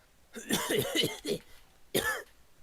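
A person coughs in a few harsh, throaty bursts at close range, with a final separate cough after a short pause, during a tabletop fantasy role-playing session.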